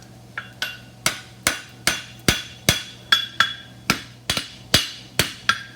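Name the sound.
hammer striking a horseshoe while shaping a trotter shoe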